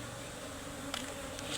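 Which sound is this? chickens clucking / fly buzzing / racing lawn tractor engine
fly buzzing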